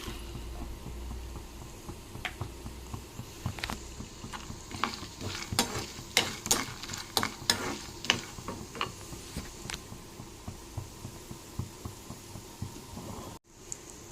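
Pumpkin seeds, dry-roasted pistachios and cashews are stirred and scraped in a pan, giving a run of sharp clattering scrapes and rattles mid-clip over a steady low sizzle, close and fairly quiet, with no talking.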